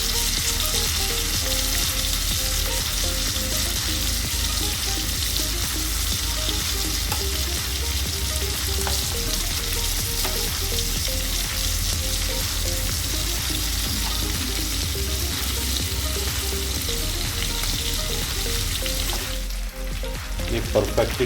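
Chicken pieces for butter chicken sizzle steadily in a pan, a dense continuous frying hiss lasting throughout with faint stirring clatter near the end.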